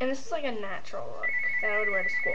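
A mobile phone rings with a steady, high electronic tone that starts partway through and continues under a woman's clear, close talking.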